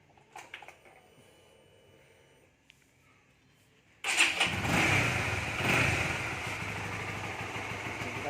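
A Yamaha RS150 motorcycle engine starts after an oil change, quiet shop noises giving way to a sudden loud start and a steady, close idle with slight rises in revs.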